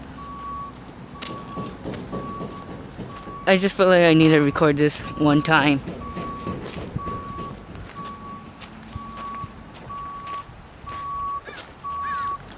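Dump truck backing up at a gold mine in Julian, its reversing alarm beeping steadily and evenly throughout in the background while someone talks close to the microphone.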